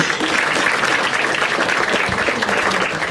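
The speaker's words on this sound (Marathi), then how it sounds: "एकदा टाळ्या वाजायच्या" A crowd claps loudly at a Marathi stand-up comedy crowd-work show, a thick, continuous burst of applause that stays strong throughout without anyone speaking.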